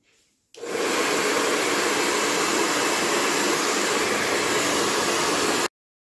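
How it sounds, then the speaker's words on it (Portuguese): A hair dryer blows hot air onto sublimated nylon 600 fabric for a small craft piece. It gives a steady, loud, even whoosh that starts abruptly, runs about five seconds alone and cuts off sharply. "eu vou aquecer esse material com o secador para ele ficar molinho"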